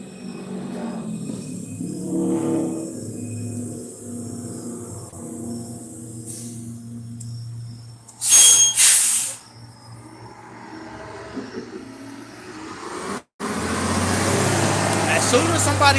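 A city bus hisses loudly as its air brakes release while it stops for passengers to get off, a burst of steam-like noise over rumbling traffic and idling engine, followed later by a second hiss.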